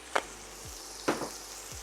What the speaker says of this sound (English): this is only gonna sear for a couple of minutes